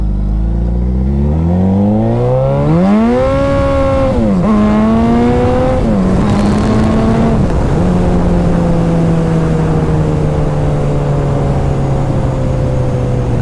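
Motorcycle engine revving hard in first gear with the rear wheel spinning, its pitch climbing in rising sweeps, dipping at shifts, then holding a steady loud drone; close and continuous with no talk.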